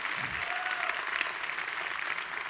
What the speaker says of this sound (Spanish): si vas a aplaudir, hazlo con más ganas, iglesia